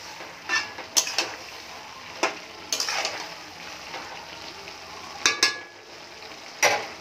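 Bottle gourd greens and potatoes cook in a pot over a gas flame, with a steady low sizzle broken by several sharp clinks and scrapes of a spoon stirring against the metal, close and fairly loud.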